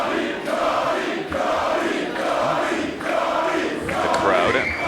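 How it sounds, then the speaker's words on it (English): Wrestling arena crowd at a submission match cheering in a steady, dense roar, loud and continuous with swelling shouts, no clear talk over it. "Crowd getting behind Johnny Richards"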